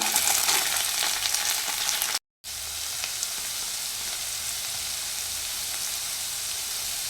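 Onions with ginger-garlic paste frying in a pan, a steady, close, hissing sizzle that runs on without talk, broken only by a brief dropout of silence near the start.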